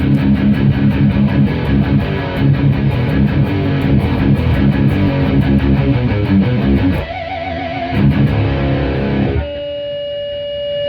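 Heavily distorted electric guitar through a Revv Amplification G3 pedal stacked with a Dirty Tree pedal plays loud riffs and chords, then drops to a sustained ringing note with feedback-like tones near the end.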